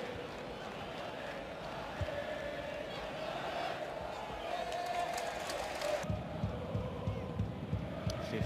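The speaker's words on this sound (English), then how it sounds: "Hey, there's a cheer." A football stadium crowd at a Sampdoria versus Juventus match roars in a steady, dense wash of noise that swells near the end, with a commentator talking over it.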